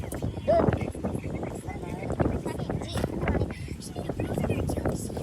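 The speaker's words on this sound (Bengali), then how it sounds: "প্রচুর বাতাস" Strong wind blows across the microphone in rough, gusty buffets, with people talking over the noise throughout.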